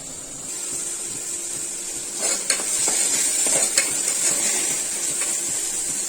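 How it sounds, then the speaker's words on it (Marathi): Tomatoes sauté in a pan for rajma masala, a steady sizzling hiss broken by a few scraping stirs and light utensil knocks against the pan midway, with no voices. "टोमॅटो ह्याच्यामध्ये व्यवस्थित मेल्ट होईपर्यंत आपल्याला ह्याला परतून घ्यायचा आहे."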